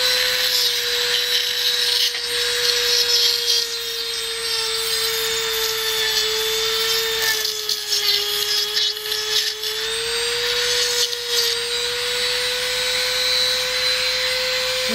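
A Dremel rotary tool cuts letters into an amethyst rock, giving a steady, loud high-pitched whine with a harsh grinding rasp that runs continuously, with brief dips in pressure.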